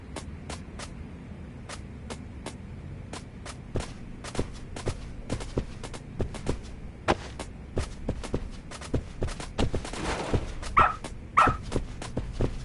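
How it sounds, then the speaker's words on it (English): A dog in a video game gives a run of sharp, rapid barks and yips close by, mixed with quick footstep-like taps. A couple of higher whining cries come near the end. "Good dog. Very good dog."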